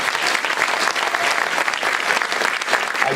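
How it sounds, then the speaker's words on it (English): A high school concert audience at Los Altos High School applauds the backstage tech students, a loud, even burst of many hands clapping that carries on steadily without a break or voices on top. "Round of applause for all of them."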